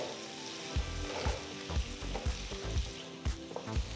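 Cubed potatoes seasoned with salt and turmeric sizzle steadily in a hot pan for a spicy aloo roast, with a dense frying crackle broken by regular clattering stirs.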